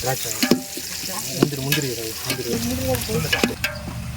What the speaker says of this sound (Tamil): இப்போ வெங்காயம் பச்சை மிளகாலாம் வெந்துட்டுருக்கு